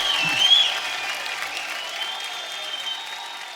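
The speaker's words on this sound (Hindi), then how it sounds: "एक बार जोरदार तालियां हो जाए" A studio audience at a comedy talk show breaks into applause for an actor, a dense wash of clapping that peaks early and then holds steady at a slightly lower level.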